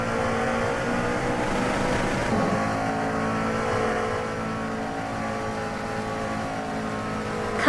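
Race car engines in a racing video game, among them a lightweight turbocharged RXC Turbo G3, a steady droning multi-car engine roar with sustained high revs and a shift in tone midway, loud and constant.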